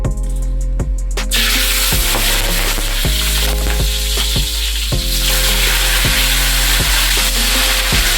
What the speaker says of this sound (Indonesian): ini minyak gorengnya sudah panas. Baru kita masukin daun-daunnya